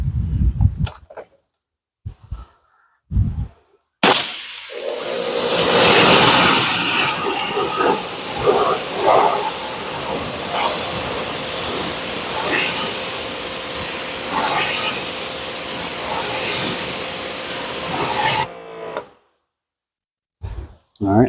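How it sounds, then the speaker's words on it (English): Car wheels coated with 3D GLW iron remover and wheel cleaner are rinsed touchless with a water spray: a few short bursts, then a loud, steady hissing jet lasting about fourteen seconds. "Let's rinse it off and see how it does touchless on the iron on the wheels."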